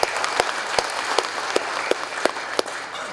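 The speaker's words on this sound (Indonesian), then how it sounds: "Tepuk tangan untuk para camat." An audience at a civic ceremony applauds the sub-district heads, a steady wash of clapping punctuated by regular, evenly spaced louder claps in unison.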